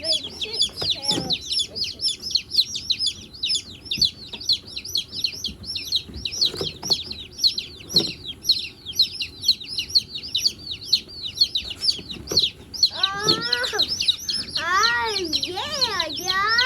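A box of baby chicks that were shipped in winter chirps nonstop. Dense high peeping fills the whole stretch, close and lively, with people's voices occasionally mixed in.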